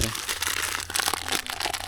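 A plastic bag of fishing bait crinkles and rustles in bursts while being handled during bait mixing for a fishing trip, close and fairly loud, with someone talking at the same time.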